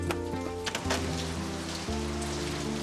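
Heavy rain pours in a dense, steady hiss with scattered tonal music underneath, no voices heard.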